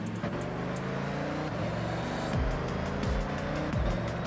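A car engine in Forza Horizon 6 revs hard through a series of rising and falling gear changes, holding a loud, close, steady drone that climbs sharply near the end into repeated high revving pulls.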